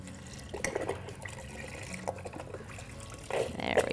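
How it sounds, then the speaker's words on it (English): Beef broth poured from a carton into a 6-quart Instant Pot, a liquid splashing and gurgling in uneven bursts that swell louder near the end, with no talking. "we're gonna add 4 cups of beef broth, which is this whole entire container"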